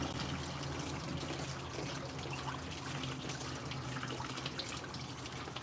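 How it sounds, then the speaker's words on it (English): Warm tap water runs steadily over strained berries in a kitchen sink, a constant close hiss and splash with no pauses and a low hum underneath. "I strain it first, and then I'll rinse it off with the warm water."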